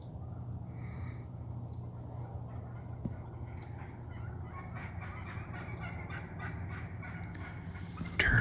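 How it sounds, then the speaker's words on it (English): Wild turkeys flying off a morning roost in hunting woods during deer rifle season: faint fowl calls and wing rustles over a steady low background hum, ending with a sudden louder burst. "Turkeys are flying off a roost."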